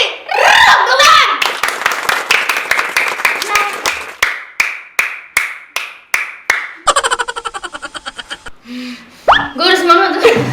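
Hand clapping in a casual Indonesian-language talk setting, starting as a fast burst and settling into a steady series of sharp, close claps that speed into a rapid run, with voices and laughter before and after.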